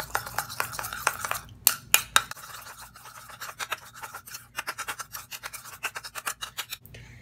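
Curd, lemon juice and salt face pack being mixed in a bowl, a close run of quick scraping and tapping strokes, irregular at first and then settling into a steady rhythm.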